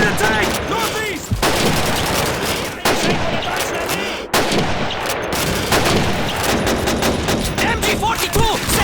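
MG42 machine gun fire in the Call of Duty 2 Stalingrad battle rattles in loud, dense bursts alongside other gunfire and explosions, with shouted voices mixed into the din throughout.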